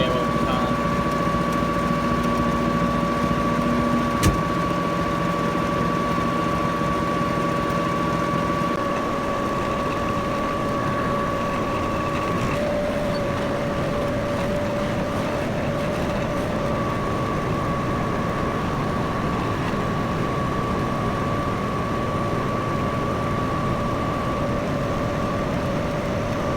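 A farm tractor idles steadily while driving a PTO slurry stirrer, giving a continuous mechanical drone with a sustained hum and whine that shifts pitch partway through, a sharp knock early on.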